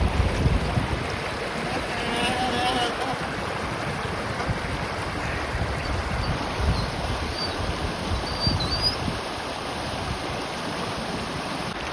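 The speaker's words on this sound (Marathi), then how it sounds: "हे जे पाणी आहे ना या रस्त्यातनं खाली जातं" Rainwater rushes steadily down a road after a sudden unseasonal downpour, a continuous loud turbulent flow with faint wind.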